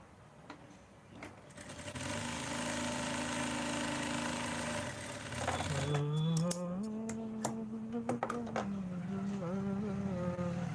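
A sewing machine stitches a pocket onto a panjabi, its motor whirring steadily and close, with a shift in pitch partway through and a few sharp clicks, with no voices.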